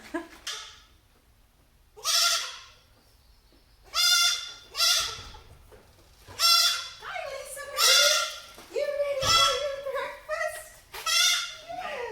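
A young goat kid in a goat pen bleats loudly and close several times in wavering, drawn-out cries separated by short pauses, with a person talking quietly between some of the calls.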